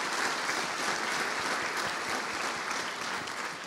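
Sustained audience applause fills a theatre during a musical tribute evening, a dense, steady wash of many hands clapping at close range from start to finish.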